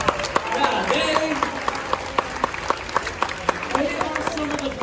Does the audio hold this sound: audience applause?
yes